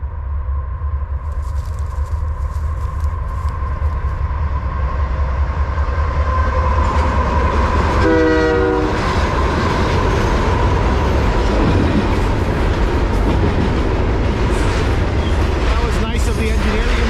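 An eastbound freight train on the Canadian National Kinghorn Subdivision near Dorion, Ontario rumbles loudly past a crossing near a camp, with steady clattering wheels and a long horn blast sounding midway through the pass.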